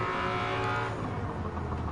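A 1997 BMW McLaren F1 GTR long tail race car in Gran Turismo 7 holds a loud, high engine note at speed, steady and close with a slight dip midway.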